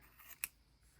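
Scissors snip once through notebook paper tabs, a single crisp, close cut, quiet and isolated with no talk.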